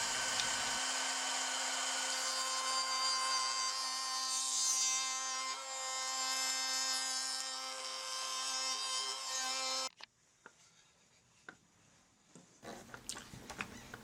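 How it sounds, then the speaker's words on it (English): Router fitted with a bearing-guided rabbet bit cuts a half-inch-deep rabbet along the straight edge of a barn board for a picture frame, a loud steady whine with woody rasping for about ten seconds, then stopping, followed by faint clicks and handling. "I use a rabbet bit with a bearing for a 1/2 inch depth."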